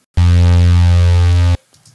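A sustained synth note run through a FabFilter Pro-Q3 low shelf boost of about 8 dB at 100 Hz, one steady loud tone with a heavy low end and a rich harmonic buzz, cutting off cleanly after about a second and a half.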